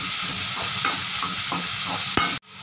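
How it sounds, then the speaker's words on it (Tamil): Boneless chicken pieces sauté in a pan for chicken balls, giving a steady, close, loud sizzle with soft stirring scrapes that cuts off sharply near the end. "நல்லா வதக்கிடலாம்"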